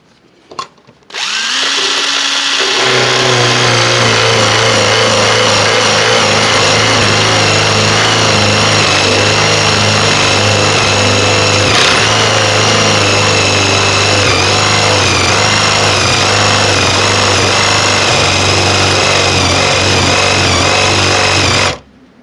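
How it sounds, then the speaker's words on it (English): A drill drives a Forstner bit into wood for a chair leg repair, running as a loud continuous whine with a low steady hum for about twenty seconds, starting and stopping abruptly. "we're going to give a little Forstner bit action"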